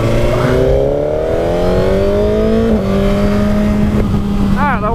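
Sporty car engine pulling hard and rising in pitch through a gear, loud and close from inside the cabin, with a brief shift and continued acceleration; a voice speaks over it.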